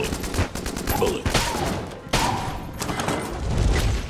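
Rapid bursts of gunfire in the Enter the Gungeon video game, dense repeated shots and thumps crowding together loudly over the whole stretch, with a player's voice faintly underneath.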